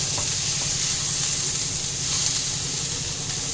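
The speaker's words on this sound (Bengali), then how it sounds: "পেঁয়াজ আদা দিয়ে এক মিনিট কষে নিয়েছি" Onion and ginger sauté in a pan on a gas stove, giving a loud, dense, steady hiss of frying with no breaks and no speech.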